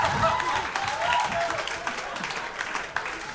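Warm audience applause fills a stand-up comedy club, a dense steady patter of clapping that holds for a few seconds and then thins out.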